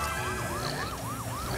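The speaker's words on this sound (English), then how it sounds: "now we have the siren hat" Wailing siren from the Nintendo Switch game Luigi's Mansion 3, a rapid repeating up-down electronic whoop cycling about five times over steady background game sound, loud and alone with no talk.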